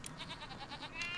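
A sheep in the video game Skylanders: Trap Team lets out a bleat as a string of rapid, wavering pulses, then a brief higher tail, close and clear with no talk over it.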